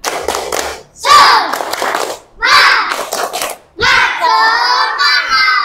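A class of standing schoolchildren performs a rhythmic spirit clap in bursts, young voices chanting and shouting along between sharp volleys of hand claps in a classroom.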